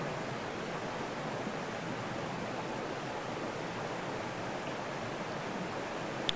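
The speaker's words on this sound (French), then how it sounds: "Là, il y a un petit ruisseau qui arrive. Et qui en rejoint un plus grand, un plus large." A small stream flows through the woods in late August and joins a larger, wider one. Its even, rushing hiss is soft and constant, with no talking.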